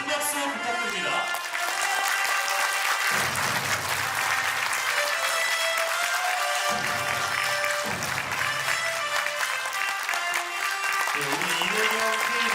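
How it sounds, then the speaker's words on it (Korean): Audience applause at a Korean political party event, sustained clapping that fills the room and runs throughout, mixed with background music and occasional voices underneath. "여러분 큰 박수 부탁드립니다"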